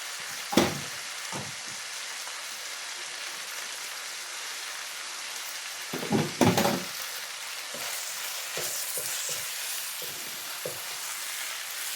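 Spinach sizzles in a hot pan with a steady, quiet hiss of frying, broken by a few louder crackles and stirring clatters, with no talking.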